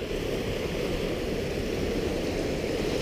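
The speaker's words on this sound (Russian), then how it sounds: "Вот один водопадик" Small waterfall on a hiking trail in Julia Pfeiffer Burns State Park, a steady close rushing splash of falling water with no voices.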